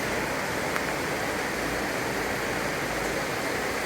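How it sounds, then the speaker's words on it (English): A river rushes below a Japanese onsen suite in Kirishima, Kagoshima, a steady broadband wash of flowing water without pause and with no voices. "this is the river down below."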